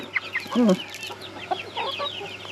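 Chickens cluck in short, close bursts, a few bright squawky calls scattered over a steady low background hum, in a backyard flock kept by teenagers.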